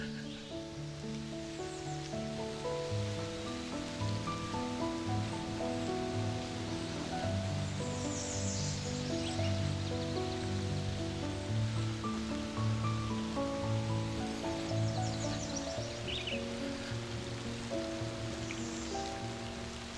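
Steady rain patters on surfaces at a solo campsite, a soft continuous wash of drops with faint rustling and a low tonal hum beneath, no talk.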